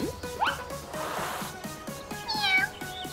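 A cat meows a few times in a toy-play scene, with short mews rising over a steady rhythmic background track; the calls are moderately loud and close.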